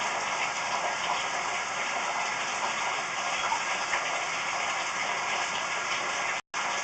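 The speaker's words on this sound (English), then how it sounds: "We'll run a little bit of cold water here and see if we can get the water to get a little more clear" Cold water running through a broken, shifted sewer pipe, a steady loud rushing gush that continues without a break, with no voices.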